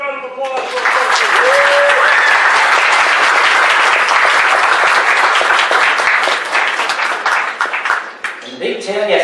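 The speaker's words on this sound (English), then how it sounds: "let's get a huge round of applause" A large crowd at a furry convention bursts into loud, sustained applause and cheering, clapping steadily for several seconds before tapering off at the end.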